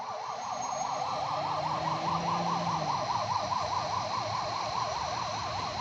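An ambulance siren wails in a rapid, steady up-and-down yelp, loud and close, over the rumble of traffic and road noise.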